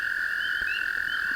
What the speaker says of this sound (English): This one here is my pond, in which you see those dark little spots are all frogs